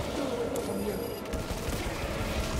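Rapid gunfire in the Space Marine 2 video game, a dense, loud, continuous rattle of shots mixed with heavy combat noise, with a voice speaking over the din at times.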